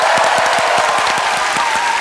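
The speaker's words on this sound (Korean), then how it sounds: "열심히 일하는 경찰 아저씨들을 위해서 박수 한번 보내주세요." An audience claps together in a short, bright burst of applause with a few distinct hand claps standing out, loud and close.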